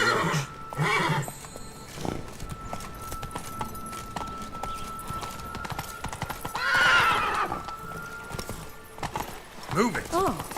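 Roach, Geralt's horse in The Witcher video game, whinnies loudly and clip-clops on hooves, with a second neigh near the end and voices talking throughout.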